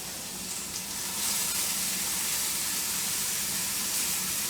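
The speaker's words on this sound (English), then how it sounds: "take your tomato slices and put them in the skillet and cook them a little bit" Tomato slices sizzling in a skillet, a loud, steady, close hiss of frying that swells slightly after a second and then holds evenly, with no one talking.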